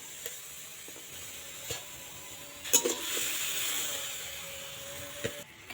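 Sugar and water heating in a wok for caramel give off a faint, steady sizzling hiss, with a few soft clinks and stirring knocks rising briefly near the middle.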